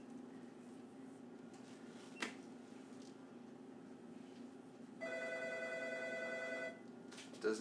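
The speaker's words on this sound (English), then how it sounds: "my phone's ringing right now" A phone ringing in a home kitchen during dog-cookie baking, one electronic ring tone sounding steadily for a couple of seconds over a low room hum, with faint clicks nearby.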